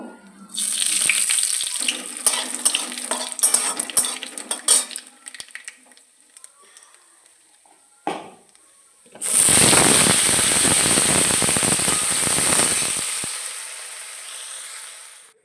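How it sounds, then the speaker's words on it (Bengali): Black cumin and dried red chilies drop into hot oil in a kadai and burst into a loud, sustained hiss that slowly fades. Utensil clatter comes first, then a brief pause before the sizzle. "তেলের উপরে কালো জিরে আর শুকনো লঙ্কা ফোড়ন দিয়ে"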